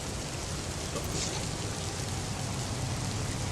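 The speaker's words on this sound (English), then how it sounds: "Rain is loud." Loud rain falling steadily, a dense continuous hiss of drops with no pauses, heard close and filling the whole clip.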